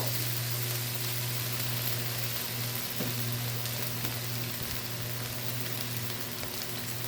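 Spice paste for brinjal karanchi fries in a pan with a little sugar, a constant close sizzle and crackle alongside a steady low hum, with no talking.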